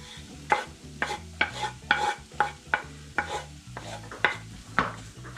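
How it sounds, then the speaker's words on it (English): Onions cooking in a pan for bobotie, with a utensil stirring in a steady run of soft scraping strokes about twice a second over a low background hum, close and fairly quiet, no one talking. "So we're just going to cook these onions until they're soft"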